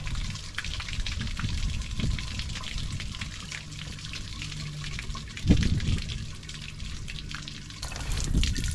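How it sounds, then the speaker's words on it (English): Water runs and splashes steadily as it flushes leftover antifreeze out of a Suburban water heater on a Rockwood Mini Lite 2205S travel trailer, a continuous trickling gush with a few louder surges. "there's still a lot of that antifreeze in there. And we'll flush that out of there first."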